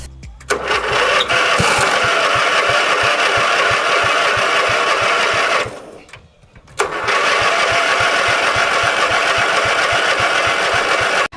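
A lawn tractor's small Briggs & Stratton engine runs steadily and loudly with a fast mechanical chug, cuts out briefly midway, then restarts and keeps running.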